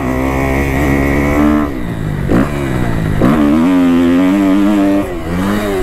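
Dirt bike engine with a broken inner clutch cover revving loudly and close on a motocross track, the pitch climbing and dropping through several throttle bursts and gear changes with no pauses.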